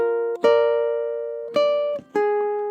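Measure 32 played on ukulele: a handful of bright plucked notes and chords ringing out one after another with slow decays, close and clear, no voice.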